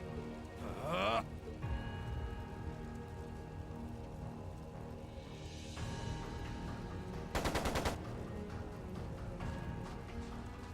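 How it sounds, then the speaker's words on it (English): Machine gun fire in the video game Trails of Cold Steel 2, a rattling burst amid a busy, rain-like wash of game sound, with a sharper loud crackle near the end. "It sounded like a machine gun."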